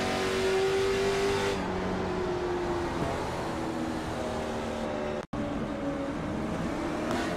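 A late model stock car's engine drones steadily from the onboard camera at New Hampshire Speedway in iRacing, loud and continuous with shifting pitch as the throttle varies, and a brief cut near the end.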